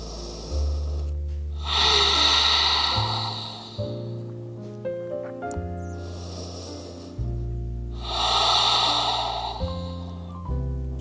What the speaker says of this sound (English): just taking some nice deep cleansing breaths